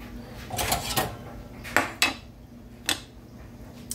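Meatloaf ingredients being mixed in a bowl in a home kitchen, heard as a few sharp clinks and knocks of a utensil against the dish with pauses between them, close and moderately quiet, with no talking.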